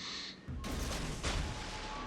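Warship main guns firing in the naval battle game World of Warships Legends, a sudden heavy boom followed by rumbling blasts and sustained roaring gunfire with a second loud report, close and dense.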